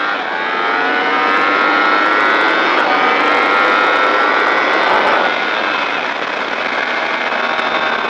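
A motorcycle on the Le Vigeant race track accelerates hard out of a corner, a loud, continuous, high-pitched engine roar filling the whole stretch with no voices.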